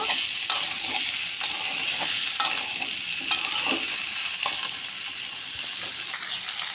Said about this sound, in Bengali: দেখুন এভাবে কষিয়ে নেব।